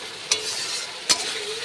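Chunks of mutton frying in hot spiced oil, sizzling steadily, with two sharp clanks of a utensil against the pan.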